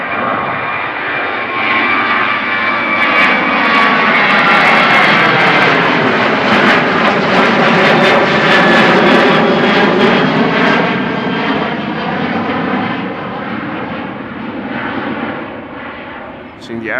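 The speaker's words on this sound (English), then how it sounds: "Seeing the airplanes, of course" An airliner passes overhead at Amsterdam Schiphol Airport, a loud, sustained engine roar that swells and then slowly fades, with the pitch sweeping as it goes by.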